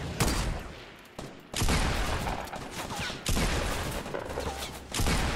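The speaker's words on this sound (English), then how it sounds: "There's someone else shooting at me." Loud bursts of automatic gunfire from a Fortnite Battle Royale match, several sustained volleys separated by brief pauses, close and dense throughout.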